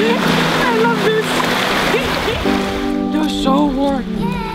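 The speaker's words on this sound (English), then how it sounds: "can you hear all the water?" Water splashes and sloshes nearby in an outdoor spot in Hungary, with voices talking over it throughout.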